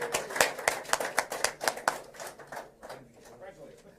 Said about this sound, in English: Round of applause for the election winners.